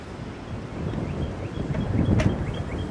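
Gusty wind buffets the microphone outdoors at a fish stocking with a low rumbling roar, and a few faint high chirps can be heard far in the background.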